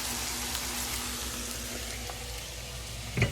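Steady, soft sizzling and crackling of food frying in a pan, continuous and close, with a faint clunk at the end.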